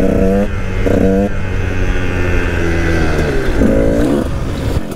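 A Yamaha YZ 125 two-stroke motorcycle engine runs nearby with a buzzy tone, rising in short blips of revving over its idle.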